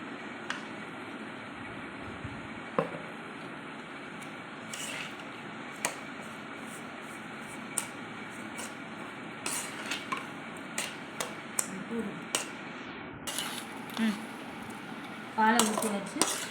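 A ladle stirs roasted semolina (rava) with milk in a metal pan for rava laddu. Soft scraping runs under scattered metallic clinks and knocks against the vessel, with a brief cluster of rattling near the end, all fairly quiet and close.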